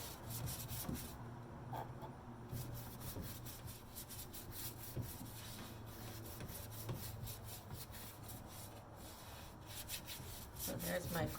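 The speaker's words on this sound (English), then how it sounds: "when you put wax over transfers, because you're rubbing, they tend to come off a little bit" Clear Annie Sloan wax is rubbed by hand over painted furniture bearing transfers, a continuous quiet close scrubbing and rasping with a low hum beneath it.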